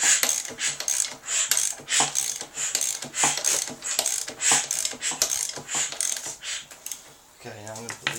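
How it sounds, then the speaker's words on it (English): An XUD diesel engine is turned over by hand during a timing belt job, giving a run of repeated ratcheting clicks and mechanical clatter, fairly close and steady across the clip. "Spin it over a few times just to let the belt align to where it's going to sit."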